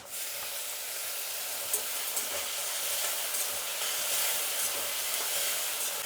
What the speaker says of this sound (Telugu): ఎర్రగడ్డ కొంచెం వేగినాక టమాటా వేసుకుందాం.